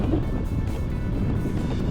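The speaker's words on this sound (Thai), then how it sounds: "ลมแบบ" Wind buffets the microphone while riding a motorcycle on Ko Yo island, a constant loud, low roaring rumble with no pauses.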